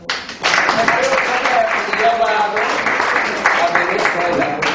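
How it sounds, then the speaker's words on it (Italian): An audience at an Italian cultural association event breaks into applause, a broad clatter of clapping that carries on throughout while voices talk over it. "un applauso"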